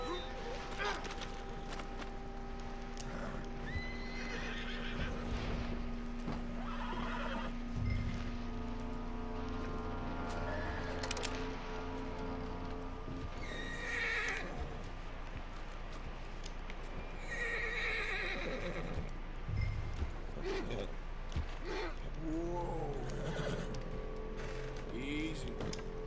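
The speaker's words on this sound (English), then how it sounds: "I have to calm the horse, pat the horse." Horses whinny several times over steady hoofbeats and background ambience in Red Dead Redemption 2, with occasional voices underneath; the neighs rise and fall at intervals.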